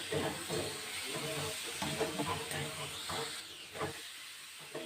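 Salt-and-turmeric marinated prawns frying in a pan of cooked-down spiced masala with Kashmiri red chilli powder, a steady close hiss and sizzle with bursts of crackling and stirring scrapes throughout.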